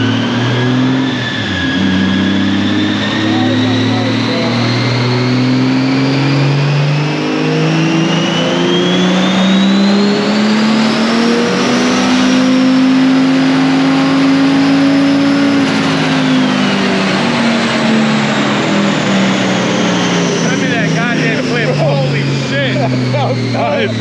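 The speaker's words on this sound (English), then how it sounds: "There's nothing like hearing a car in the dyno right in front of you, bro." A fully built Toyota Supra with a cheap budget turbo kit roars on a dyno, a loud sustained engine note climbing and falling in pitch through a long pull, close by, with people talking over it.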